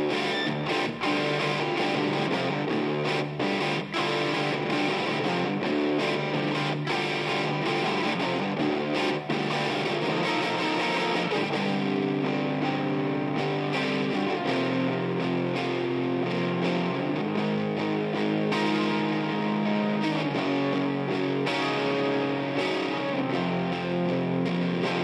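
Heavily distorted rock rhythm guitars chug through chord changes with a roomy reverb tail, recorded to a Fostex R8 reel-to-reel tape machine, played continuously and loud.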